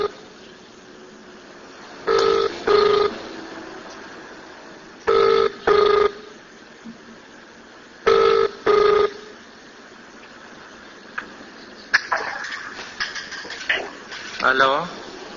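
A recorded phone call rings three times as paired electronic ring tones with short gaps between them, and then a voice comes on the line toward the end.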